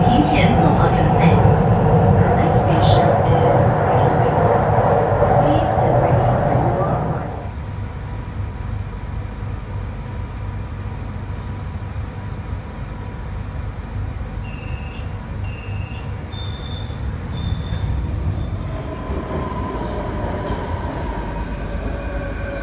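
A Beijing Subway Line 6 train rumbles along, loud at first then quieter and steady, with a brief electronic chime and Chinese and English voices announcing over the ride.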